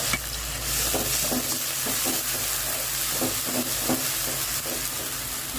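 Ginger garlic paste fries in a pan with a continuous close sizzle, while a spoon stirs it in repeated scraping strokes at an even rhythm.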